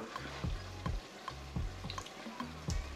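Red beans for an Antillean rice and red beans dish are stirred in a cooking pot, giving rhythmic scraping strokes about every half second over a soft bubbling sizzle.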